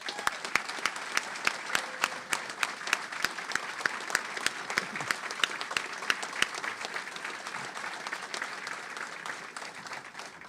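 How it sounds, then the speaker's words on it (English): An audience at a press conference applauds a coach in a sustained burst of dense clapping that fills the room, holding steady at close range before tapering slightly toward the end. "Will you please join me in giving a round of applause for Coach Derek Zimmerman?"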